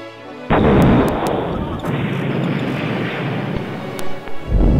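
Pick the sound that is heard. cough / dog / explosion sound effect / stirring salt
explosion sound effect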